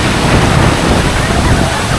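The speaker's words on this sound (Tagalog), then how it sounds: "Lakas ng hangin dito." Strong wind roars steadily and loudly at a popular waterfall in Laguna, blending with the rushing water into a dense, unbroken wash of noise close to the microphone.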